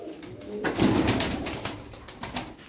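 A blue pigeon from a rooftop loft coos near and moderately loud over a broad ambient wash, in a single swelling call with softer murmurs after it.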